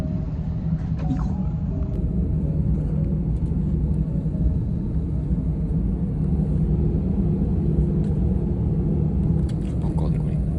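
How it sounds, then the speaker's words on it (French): Steady low jet engine roar fills the cabin as an airplane takes off, a constant heavy rumble with faint voices underneath. "Ça y est, on a décollé."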